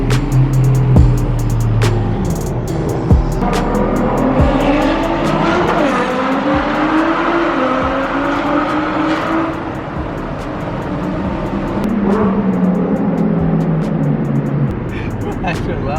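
Loud sports car engines, including Nissan GT-Rs, Toyota Supras and a Corvette, roar and rev up close as cars accelerate away, with tire noise and excited voices shouting over them.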